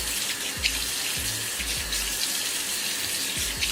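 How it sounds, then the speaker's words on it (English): Water pouring from a shower tap onto hair in a wash-and-go curly hair routine, a steady close splashing rush with a few low thumps and gurgles as the flow shifts; no talking. "I just turned the water on"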